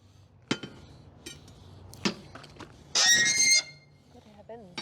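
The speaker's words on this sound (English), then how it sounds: "Me panting and the door screeching." A heavy old fallout shelter door screeches in a loud, sustained metallic squeal of about half a second, set among scattered clanks and thumps and some panting breaths.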